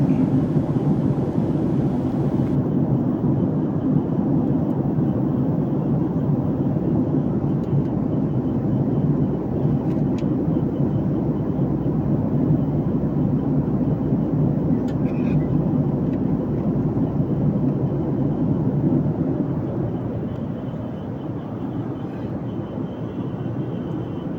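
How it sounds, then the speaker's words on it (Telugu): A steady, loud, broadband roar fills the cabin of an airliner cruising above the clouds on a morning flight from Hyderabad to Kolkata, unbroken for the whole stretch and easing slightly near the end. "ఫ్లైట్లో జర్నీ చాలా చాలా బాగుంది."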